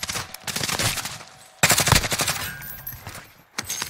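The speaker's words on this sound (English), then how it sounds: "Taking fire on me." Rapid automatic gunfire in the Warzone shooter game crackles in loud dense bursts, with a brief pause before a second, even louder burst of sustained shots.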